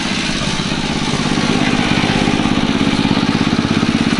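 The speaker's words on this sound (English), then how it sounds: "Altman Taylor kerosene gas tractor." An Altman Taylor kerosene gas tractor, a very large old farm machine, running close by at a farm day, its engine thumping in a steady, rapid rhythmic chug that holds an even pace throughout.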